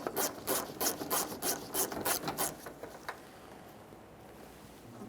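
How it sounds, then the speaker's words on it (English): Rhythmic rasping strokes from loosening a 10mm bolt on the bumper cover of a 2014-2019 Toyota Corolla, about nine quick close scrapes that stop partway through and leave quiet room noise. "Let's remove that bolt."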